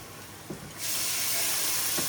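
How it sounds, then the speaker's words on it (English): Steam hisses loudly from reserved pasta water poured into a hot pan while cooking garden spinach ricotta ravioli, a broad steady sizzle that surges after a quiet start and continues close and strong to the end. "Woo, look at that steam."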